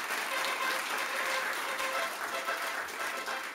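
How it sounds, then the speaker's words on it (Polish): Audience at a regional sports awards ceremony applauding a third-place winner with a sustained, even patter of many hands, fairly soft and distant, with no talking over it. "Wielkie brawa."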